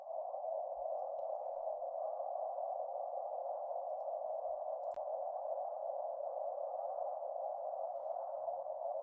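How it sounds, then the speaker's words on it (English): A Grainstates FX granular effect manipulating a tone gives a steady, unbroken mid-pitched hum at moderate-low level, continuous throughout, with one faint click near the middle. "it's basically a device that allows us to manipulate grains of sound"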